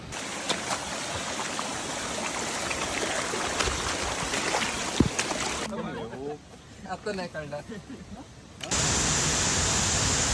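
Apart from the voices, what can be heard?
waterfall roaring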